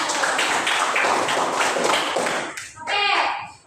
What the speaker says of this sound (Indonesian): Betul, kasih tepuk tangan.